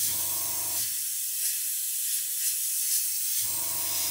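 Airbrush spraying paint onto an Airfix 1/24 Spitfire Mk.IXc model, a steady soft airy hiss lasting a few seconds between bursts of other noise, close and fairly quiet.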